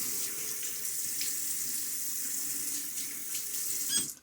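Tap water running steadily into a sink while the face is rinsed after a shave with a Gillette Nacet blade: a soft, even hiss and splash, ending with a brief clink.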